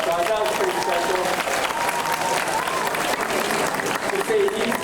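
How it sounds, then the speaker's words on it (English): An audience claps steadily at a tiger show at Tiger Island, Dreamworld on the Gold Coast. The dense applause runs throughout while a presenter keeps talking over it. "Let's give him a nice big clap, guys."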